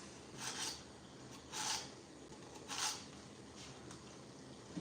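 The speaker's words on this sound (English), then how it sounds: "I'm just sharpening this bad girl up." A rigid-bladed BBQ trimming knife is sharpened, with three distinct scraping strokes spaced about a second apart, close and moderately loud over a quiet background hum.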